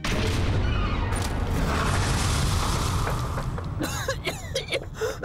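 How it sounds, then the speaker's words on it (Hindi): A rumbling boom from a small explosion in the TV series Power Rangers Super Samurai, with a sustained roar and crackle, then sharp popping bursts near the end; loud and close. "एक छोटा सा धमाका ही तो था।"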